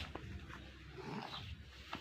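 A dog makes short soft vocal sounds, a couple of brief whimpering yelps and low grumbles close by over about two seconds, with no one speaking.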